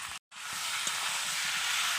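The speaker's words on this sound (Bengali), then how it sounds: "এবার আমি আলুটাকে মশলার সাথে ভালো করে কষে নিই" Potatoes sizzle with spices and a few peas in a hot pan for aloo dum, a steady bright hiss that cuts out briefly near the start and then continues evenly.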